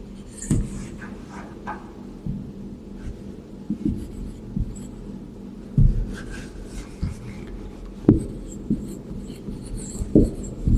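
Pen writing a sentence by hand on paper, soft scratchy strokes and light taps recurring in short bursts, fairly close and quiet with no talk.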